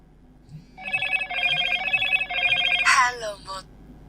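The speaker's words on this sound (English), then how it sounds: "Silence the ringer during an incoming call by lifting up the phone." A Motorola Moto G17 Power rings with an incoming-call ringtone, a bright repeating electronic melody in several bursts that stops abruptly after a few seconds, heard close and clear.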